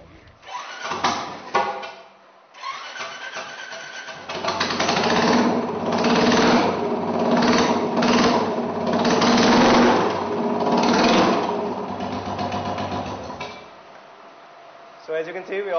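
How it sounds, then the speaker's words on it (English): A Vardenchi Sunburn chopper motorcycle engine fires up and roars close by, steadying into a loud rumbling idle with throttle blips before cutting off. "it was time to fuel her up and hear the roar of that engine."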